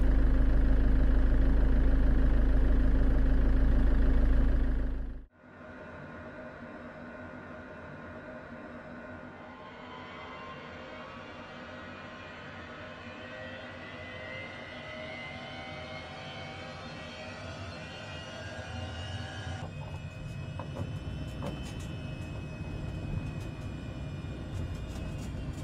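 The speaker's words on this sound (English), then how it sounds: "Within minutes, the engines have been started and we are taxiing to the runway for departure" Private jet engines in Microsoft Flight Simulator settle into a steady whine and hum after a loud low rumble cuts out, with rising tones building as the aircraft taxis, continuous and close.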